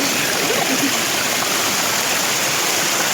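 Steady, loud rush of a waterfall in Buscalan, a dense broadband roar of falling water that fills the whole moment with no pause.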